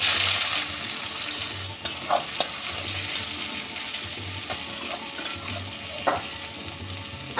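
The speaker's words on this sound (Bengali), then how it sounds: "এই পেঁয়াজটা আমি ভেজে নেব।" Chopped onions frying in a pan after whole spices, a steady close hiss of sizzling oil with occasional scraping stirs and a faint rhythmic low hum in the background.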